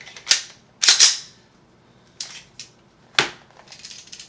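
A Glock 17 pistol gives several short, sharp metallic clicks and clacks, a handful of separate bursts spaced irregularly and close up, with nothing else around them.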